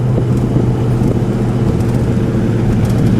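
A 1969 Pontiac GTO Judge Ram Air III in Carousel Red cruising a two-lane country road, a loud steady low engine rumble with road and wind noise from inside the car.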